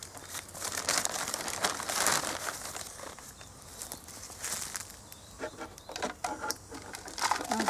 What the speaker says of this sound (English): I shall put some soil in it now.